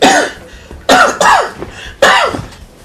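Four harsh coughs close by, one alone, then a quick pair, then a final one, with short quiet gaps between them.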